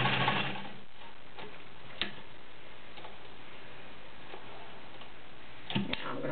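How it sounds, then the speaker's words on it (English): A vintage Dressmaker 7000 heavy-duty sewing machine sews a reverse or stretch stitch with a steady, rapid mechanical ticking that stays fairly quiet and even. A couple of louder clicks stand out, and no one speaks. "This is a reverse or stretch stitch that I'm doing."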